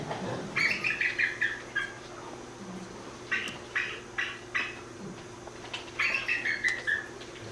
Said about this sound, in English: So that's actually an eagle call.